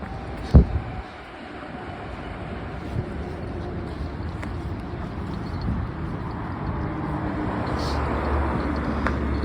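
A low, steady rumble of a train rolling by in the distance near Floral Park and New Hyde Park, growing slightly heavier toward the end, with a sharp knock near the start.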